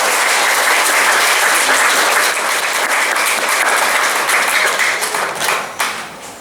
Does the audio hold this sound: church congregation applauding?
yes